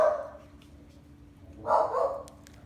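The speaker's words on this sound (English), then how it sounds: "Oh, Mommy's barking. She hears me talking back here." A dog barks twice, a short muffled bark followed by a louder one a moment later, slightly distant, over a quiet room hum.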